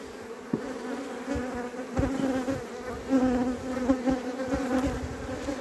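A dense, steady drone of many bees from a swarm buzzing close by around a hive box, swelling and fading slightly as insects swarm around.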